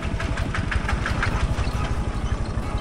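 A farm tractor engine runs steadily on a rural village road between rice fields, its low rhythmic chugging and knocking pulses continuous and fairly close, with no voices over it.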